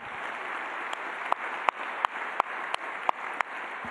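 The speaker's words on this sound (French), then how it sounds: "Donc on peut les applaudir très fort" An audience at a Masters graduation evening claps for the night's guests, a moderate steady applause with several sharp, louder individual claps standing out close by.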